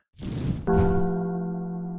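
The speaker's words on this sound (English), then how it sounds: "Okay, so there's another gong sound." A single resonant gong strike sounds in the Forest Temple video game, a soft swell followed by a clear metallic tone that rings and slowly decays.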